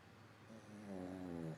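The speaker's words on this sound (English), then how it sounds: "he's snoring on my lap" A pet dozing on a person's lap snores softly, one drawn-out nasal, rumbling breath building in the second half over a quiet indoor background.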